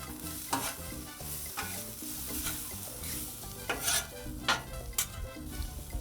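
Onions frying and being stirred on a Blackstone 22-inch griddle: a steady broad sizzle runs throughout, broken by sharp scraping and tapping of a spatula against the flat top every second or so, close and fairly quiet, with no talking.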